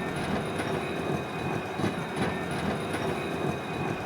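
Steady rumble of a tram rolling along rails, with faint rhythmic clatter and a thin high whine over continuous low noise.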